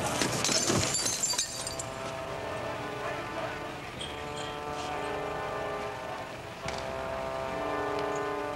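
Glass shatters loudly in a stage drama's domestic room scene, a sharp crash followed by scattering debris, then a sustained tonal hum beneath faint background activity.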